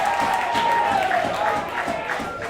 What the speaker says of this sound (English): Crowd very vocal today